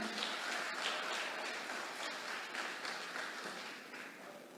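A church congregation applauds together during a worship service, a steady wash of many hands clapping that holds for several seconds and eases slightly toward the end, with no talking.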